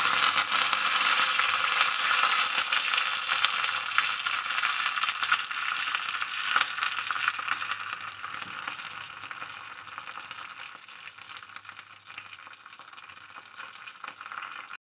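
Dried red chillies and curry leaves sizzling in hot oil for a tempering, a steady bright frying hiss close up that slowly fades and softens as it settles, with no voices.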